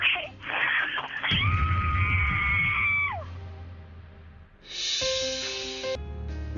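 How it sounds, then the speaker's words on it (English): A person screams as loud as they can, a long harsh shriek that rises and fades, then a second high scream with dramatic background sound underneath. "I need you to scream just as loud as you can scream"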